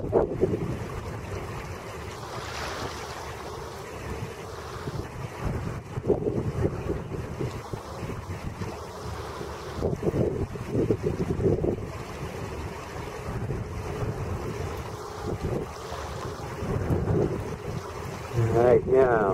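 A ship leaves port in Saint John, New Brunswick, on a winter day, heard as a low distant rumble under gusty wind buffeting the microphone and waves washing on the beach, with some faint voices.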